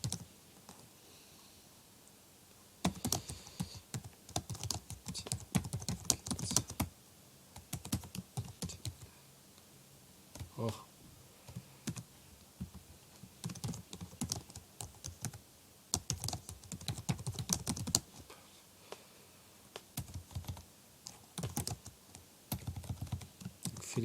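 Typing on a computer keyboard, bursts of rapid close key clicks alternating with short quiet pauses throughout.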